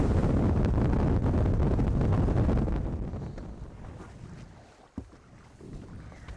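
Wind rushes over shallow water on the flats, a loud roaring buffet at first that gradually eases into a softer, gusting hiss, with a brief knock partway through.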